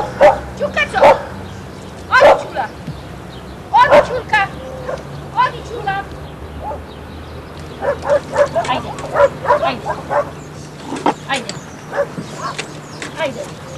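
Stray dogs at a shelter deep in a forest bark in repeated sharp bursts, several animals close by, with occasional yips and whimpers between the barking.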